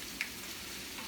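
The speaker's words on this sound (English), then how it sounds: "You can hear that start to sizzle" Onions sizzle in hot oil in a pan, a soft, steady frying hiss that stays faint throughout, with one brief pop near the start.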